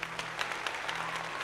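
An audience applauds at a Sega presentation announcing the US Saturn launch, steady dense clapping from a crowd with a faint low hum underneath.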